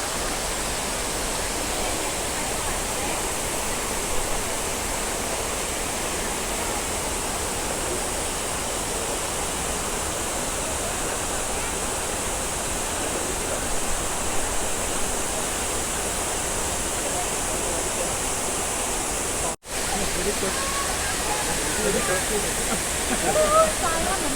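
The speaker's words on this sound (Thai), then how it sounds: "ชมน้ำตกไปก่อนครับ" A waterfall roars steadily as a dense, even rush of falling water that fills the whole stretch without a break, with only one instant of dropout.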